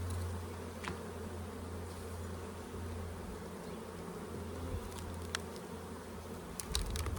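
Bees in an indoor paper boost hive make a steady low buzz that holds throughout, with a few faint clicks over the drone and no talking.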